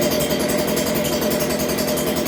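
A small Stihl blower engine runs after its carburetor is adjusted for low, high and idle, giving a loud, steady, even buzzing drone throughout with no voices.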